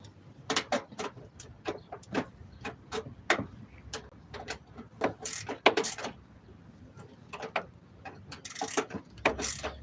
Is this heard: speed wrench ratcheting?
yes